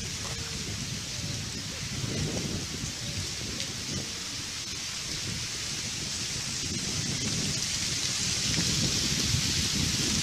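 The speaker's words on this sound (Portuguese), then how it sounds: "Esse barulho é de vento mesmo" Steady outdoor wind blowing across open ground in the countryside, a broad continuous rush that swells slightly toward the end, with low rumbling buffets against the microphone and no voices.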